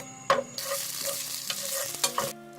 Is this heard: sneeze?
no